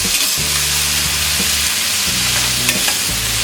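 Kabuli chickpeas frying in a pan for a chana sundal with coconut, a steady broadband sizzle with stirring scrapes throughout, close and fairly loud, no talking.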